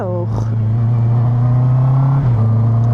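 A Honda CB650R motorcycle riding under load, its engine a loud, steady droning hum that dips briefly as the rider shifts gear, then carries on close and strong.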